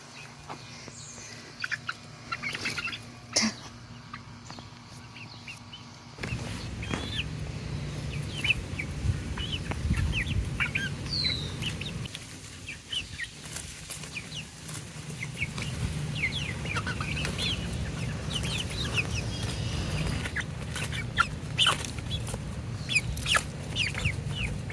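Chickens cluck in a chicken run on a home garden plot, a steady stream of short, close calls over a rustling background that grows fuller partway through.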